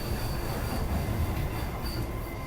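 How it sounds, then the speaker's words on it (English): Loud, continuous rumble of a train arriving at a station, with heavy low roar and a faint high wheel squeal running throughout. "I was at the station just as the train arrived."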